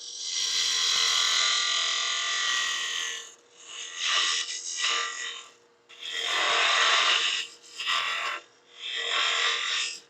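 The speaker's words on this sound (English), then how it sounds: "So I've got a scraper." A scraper cleans up the edge of a mahogany bowl turning on a lathe, a loud hissing scrape repeated in several bursts of one to two seconds with short pauses between them.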